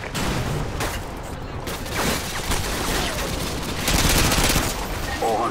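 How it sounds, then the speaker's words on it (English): Heavy battle gunfire from a Call of Duty: Modern Warfare 2 urban firefight, with sentry gun bursts and RPG fire: dense, continuous automatic fire and explosive blasts, with shouted voices mixed in. "our anti-missile system cannot handle the volume of RPG fire"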